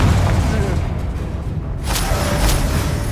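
A Confringo explosive spell blast in Hogwarts Legacy, a loud booming burst with a whooshing tail, set against continuous game noise and a spoken voice.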